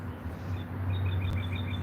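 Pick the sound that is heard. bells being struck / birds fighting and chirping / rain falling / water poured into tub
birds fighting and chirping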